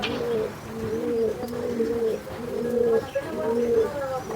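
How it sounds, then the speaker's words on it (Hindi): Pigeons coo nearby in repeated soft, rolling calls at a steady rhythm, with faint chirps and background noise around them. "ये वो कबूतर हैं जो आजकल मिलते बड़े कम हैं यार।"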